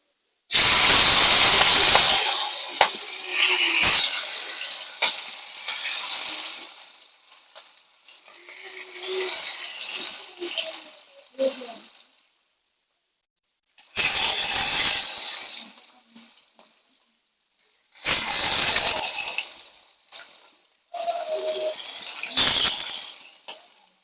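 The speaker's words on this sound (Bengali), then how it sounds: "তেলটা গরম হয়ে এসছে। এবার আমি মাছগুলো দিয়ে দিচ্ছি।" Spiced silver carp pieces drop into hot oil and fry for a home-style curry with loud, close, hissing sizzles. The sizzling comes in long bursts that fade between quieter gaps, with occasional sharp spits and clatter, and no one speaks.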